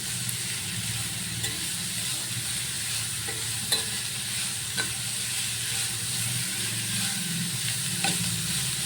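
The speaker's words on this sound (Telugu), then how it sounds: "ఒక 2 మినిట్స్ అలా ఫ్రై అవనిస్తే కుక్ అయిపోతాయి. కొంచెం ఫ్రై అయ్యాయి కదా వెజిటేబుల్స్." Vegetables sizzle in a pan for prawn fried rice, a steady close frying hiss with occasional light clinks and scrapes of a spatula stirring.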